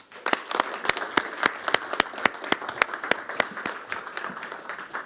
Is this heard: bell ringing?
no